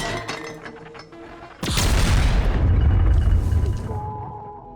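An explosion in the action series The Continental from the John Wick world bursts suddenly after quieter tension and rolls into a loud, deep rumble with debris that slowly fades.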